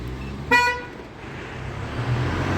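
A single short, bright electronic chirp from an Opel car's aftermarket alarm as it locks, sounding once over a low rumble of nearby engines and traffic in an auto repair district.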